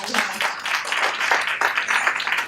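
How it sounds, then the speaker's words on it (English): An audience in a room gives a round of applause, a steady wash of many hands clapping close by for the full duration, with no voices over it. "I think that is a big round of applause from all our audience here"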